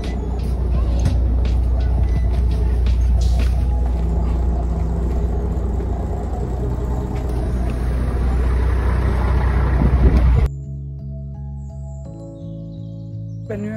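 City buses rumbling past on a rainy street, a loud, close, sustained engine roar with air-brake hiss that cuts off abruptly, leaving a quieter street with fainter traffic.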